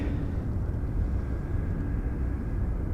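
A Boeing 747 freighter rolls off the runway at Anchorage, a steady, fairly loud low rumble of jet engines that holds evenly throughout with no breaks.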